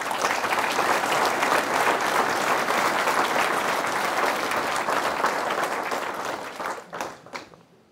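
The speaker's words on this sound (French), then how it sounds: "je vous demande d'applaudir nos agents" Audience applause for municipal staff at a mayor's New Year greetings ceremony in L'Aiguillon-la-Presqu'île, a dense, sustained roar of clapping that thins out and fades in the last second.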